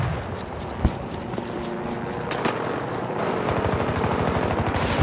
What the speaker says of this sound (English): there's someone else shooting up down on us